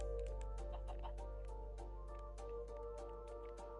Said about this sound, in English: So it would be a baby chicken, a baby cow,